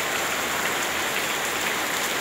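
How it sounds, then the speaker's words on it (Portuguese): Heavy March rain pours down in a sudden storm, a dense, even hiss of drops on surfaces, close and constant throughout with no talking. "a chuva tá aí"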